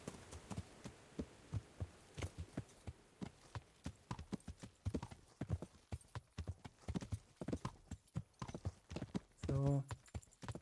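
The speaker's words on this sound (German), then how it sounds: "Jetzt können wir noch einfach hier hinten längs reiten." Hooves clip-clop steadily from a ridden horse in Kingdom Come, a rhythmic run of close, distinct impacts with a brief whinny-like tonal burst near the end.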